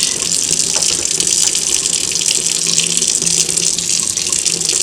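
Water runs steadily from a tap while a soapy makeup brush is squeezed beneath it, producing a loud, continuous hissing splash close up, with no voices.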